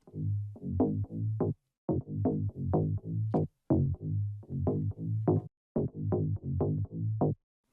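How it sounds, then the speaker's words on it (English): Sine-wave synth bass driven through sine fold distortion, Malaa-style, bursts out in a steady rhythmic pattern of gritty, harmonically rich low stabs with short gaps between phrases, loud and alone. "a bit of sine fold distortion can do the job for you"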